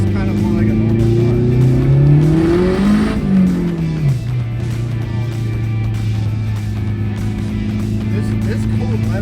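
A car engine revs hard and climbs in pitch while accelerating with the throttle floored in second gear, then drops back after a gear change and keeps droning close by.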